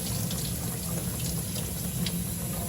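Warm water runs from a tap over an Audi RS5 air filter being rinsed, a constant close hiss and splash with a low steady rumble underneath.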